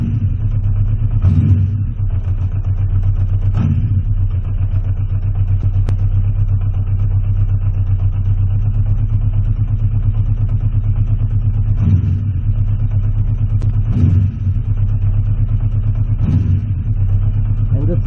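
A Honda CB650C motorcycle idles after a pilot screw adjustment, a loud, close, steady low rumble broken by several short throttle blips spread through the clip.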